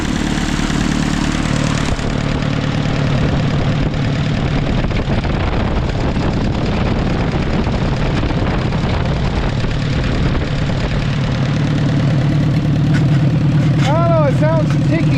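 An old Ford tractor engine idles steadily with a fast, dry ticking riding on its low rumble, close and loud throughout, with brief squeaky chirps near the end.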